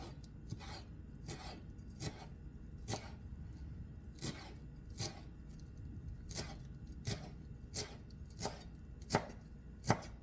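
Food being chopped on a cutting board for a grilled chicken, black bean, corn and avocado salad, about fifteen crisp knife strikes in an uneven rhythm, fairly quiet over a soft background hum.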